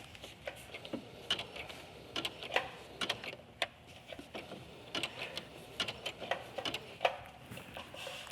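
A sewing machine stitching fabric runs with a fast, irregular ticking and clatter of the needle, up close and moderately quiet, with short pauses and bursts of speed, and no talk.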